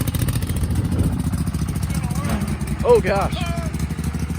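An old garden tractor engine, stuck on half choke after sitting for ages, runs with a steady low rumble beneath excited talking and exclamations.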